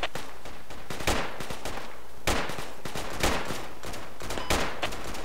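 Rapid bursts of gunfire from the military video game Project Reality, dense overlapping rifle and machine-gun shots cracking loudly and continuously throughout.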